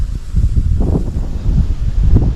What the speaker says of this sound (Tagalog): Mahangin pa.